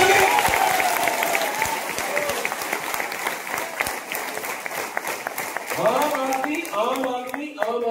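An audience at a talk applauds in a steady, dense burst of clapping that fades as a voice resumes speaking over the last seconds.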